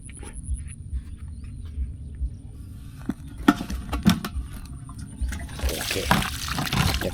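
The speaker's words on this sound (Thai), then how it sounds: "เดี๋ยวผมจะ เทน้ำออกให้ดูนะ" Water splashes and gurgles as it is poured out of a container holding caught snakehead fish, growing into a rushing spill toward the end, with small knocks and drips.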